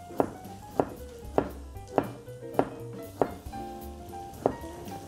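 Ginger sliced thinly with a knife on a cutting board: six or seven crisp, evenly spaced chops about every half second, close and clear, with no talk.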